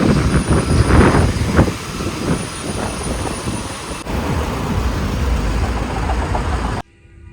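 A train rumbles and rattles in Melbourne with a rising whine and a high steady tone, loud at first and then settling to a steady ride before the sound abruptly cuts off.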